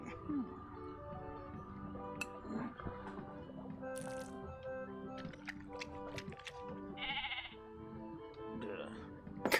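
Cartoonish sheep bleats from a video game, several wavering bleats spread across the clip amid game sound effects and chimes, with a voice heard at points.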